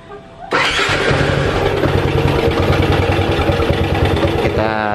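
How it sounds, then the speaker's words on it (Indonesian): A motorcycle engine with an overcharging battery fault cranks and catches after a brief pause, then runs at a loud, steady idle close by for the rest of the clip. "Kita coba nyalakan lagi motornya."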